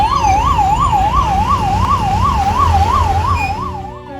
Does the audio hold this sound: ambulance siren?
yes